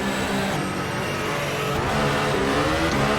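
Modern Formula 1 car in rFactor 2 racing around the Circuit de Barcelona-Catalunya, a continuous high-pitched engine whine rising and shifting through gears, loud and close.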